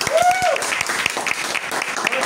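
Classroom applause, a short burst of dense clapping from students, with a brief voice exclamation at the start.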